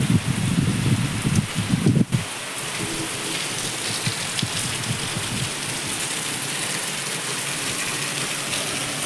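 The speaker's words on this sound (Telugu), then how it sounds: "ఇదిగో ఇక్కడ వర్షం పడుతుంది." Steady rain pouring down onto water and forming bubbles, a dense hiss of drops that is heavier and rumbling for the first two seconds, then settles into constant close patter with no voices.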